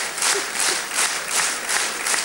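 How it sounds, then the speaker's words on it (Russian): A theatre audience at a winter KVN comedy cup contest in Slavutych applauds loudly and steadily, with dense clapping swelling in waves over a couple of seconds and no voices on top. "Дольше ни за какой ответ так никто не аплодировал."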